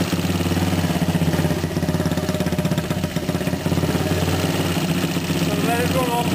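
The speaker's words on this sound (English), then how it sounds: "Right, that's the bike first fired up." A Kawasaki KX250F motocross bike idling right after a top end rebuild, its loud, slightly raspy exhaust needing repacking, running steadily close by with a continuous buzzing drone and a brief dip midway.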